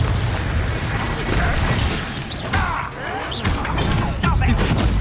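A Bombarda spell blast in the Hogwarts Legacy video game: loud, dense crashing and shattering debris over constant combat noise, with sweeping magical whooshes layered through a busy battle soundscape.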